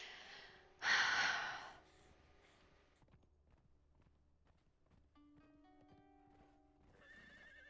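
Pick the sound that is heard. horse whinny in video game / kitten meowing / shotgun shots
horse whinny in video game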